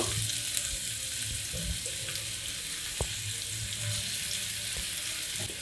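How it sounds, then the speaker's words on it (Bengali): Potatoes frying lightly in a pan as a soft, steady sizzle, with a few faint clinks and one sharp knock near the middle. "আলুগুলো হালকা ভেজে নেব, একটু একদম হালকা"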